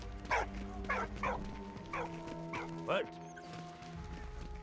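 A dog in a video game lets out a series of about six sharp, fairly close barks at uneven intervals while someone speaks briefly and a low hum persists.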